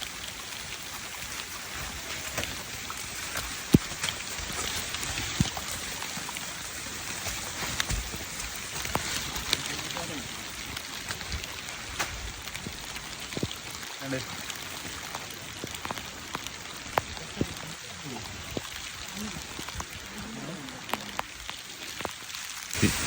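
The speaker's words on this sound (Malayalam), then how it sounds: "കിടില നല്ല മഴ എന്നുവെച്ചാൽ വെള്ളമൊക്കെ അങ്ങനെ കുത്തി ഒലിച്ച് ചാടുന്നുണ്ട്" Steady heavy rain falls on a forested mountain trail, with runoff water rushing and pouring nearby as a constant wash of noise scattered with sharp drip and splash ticks, fairly faint overall.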